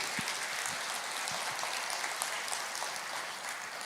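A church congregation applauding after a sermon, steady mid-distance clapping from many hands that fills the whole stretch without a break.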